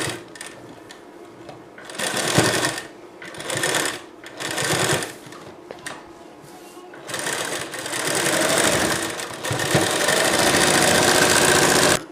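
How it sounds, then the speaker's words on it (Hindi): A sewing machine stitches a blouse armhole seam, running in short close bursts at first and then in a longer sustained whir near the end, with nobody talking over it. "अब मैं यहाँ पर इसकी सिलाई लगा दूंगी"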